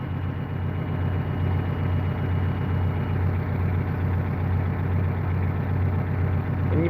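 The bed vibrator on a dump truck hums with a steady low rumble, running on continuously with a slight pulsing texture and no speech.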